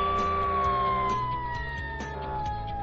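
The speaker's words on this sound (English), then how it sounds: "Fire engine." A fire engine siren holds one long, steady wailing tone that slides slowly downward, with a lower rumbling pulse of traffic beneath it. It sounds loud and close, and no voices are heard.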